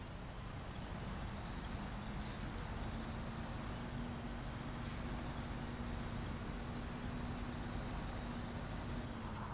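A truck grinds through mud in SnowRunner on hard mode, a steady loud engine drone with constant low rumble throughout and a couple of faint brief clicks.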